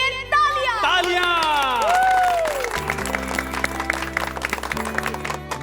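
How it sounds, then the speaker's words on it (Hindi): Applause and cheering from a gathered audience in a comedy-show society celebration honouring an aunt, with a musical sting and crowd noise underneath, fairly loud and busy throughout. "तो ऐसे हमारी ज्योति आंटी के लिए तालियां"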